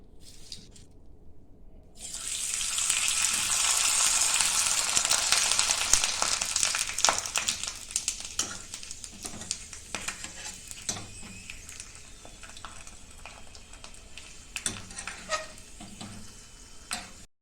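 Sago and potato ladle papads frying in hot oil, a loud steady sizzle that bursts in after a quiet start and crackles continuously with occasional pops, no talking.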